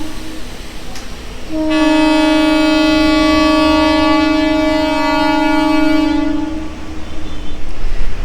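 A DEMU special train sounds its horn before departing, one long sustained rich-toned blast lasting about five seconds over a steady background rumble, loud and fairly near.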